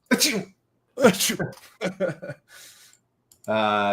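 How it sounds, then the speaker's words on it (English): A sneeze from someone during a live stock-market trading stream, a sharp burst among other voices with short speech fragments after, close and fairly loud. "someone sneezed"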